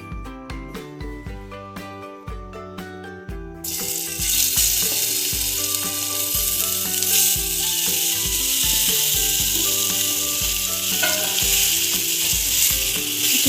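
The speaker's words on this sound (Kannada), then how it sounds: "ಈಗ ಇದಕ್ಕೆ ಮ್ಯಾರಿನೇಟ್ ಮಾಡಿರೋಂಥ ಪನ್ನೀರ್ ಹಾಕೊಳ್ಳೋಣ." Marinated paneer drops into a hot pan and sizzles loudly and steadily, the frying hiss swelling suddenly as the pieces go in, with rhythmic background music playing throughout.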